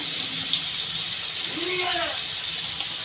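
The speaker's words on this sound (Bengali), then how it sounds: "নুনটা দিয়ে আমি আলুটা আগে ভেজে নেবো ভালো করে।" Potatoes fry in hot oil with salt in a home kitchen while a Bengali fish curry is being cooked, giving a steady, close, hissing sizzle for the whole stretch with a brief faint tonal sound partway through.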